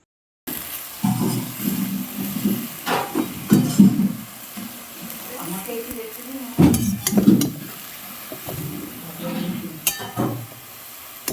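Coriander leaves stirred in a dry wok, with irregular scraping and light clinks of a spatula against the metal, moderately close, and brief pauses between bursts of stirring.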